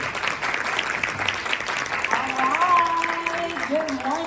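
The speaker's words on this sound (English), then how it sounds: "Let's clap our hands and give a warm welcome to Mia Pyle as she takes the stage" Audience applause welcoming speaker Mia Pyle onto the stage at the Undiabetic Conference, a steady wash of many hands clapping that holds at even loudness throughout, with a few faint tonal sounds rising over it near the end.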